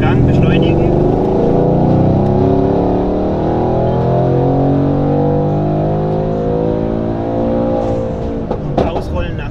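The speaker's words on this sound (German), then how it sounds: "Deutlich zu hören die Ansaugung natürlich, also das Ansauggeräusch ist sehr geil." A Mercedes C63S AMG W205 coupé with a 624 PS engine pulls hard in fourth gear, its loud, rising intake and engine roar sweeping upward steadily and close, then easing off near the end.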